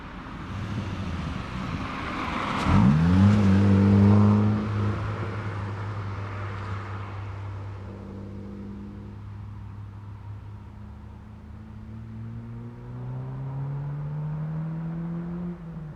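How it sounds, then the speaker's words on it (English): A Kia Stinger passes on a road: engine and tyre noise swells as it nears and fades as it goes, with revving tones sliding in pitch, then other traffic hums on afterward. "So a Kia Stinger just drove past"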